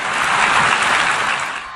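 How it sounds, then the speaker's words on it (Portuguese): A crowd giving Pope Francis a standing ovation, a brief, dense wash of clapping heard at a distance, steady and then fading slightly at the end. "Uma multidão acompanhou em telões e ele foi aplaudido de pé."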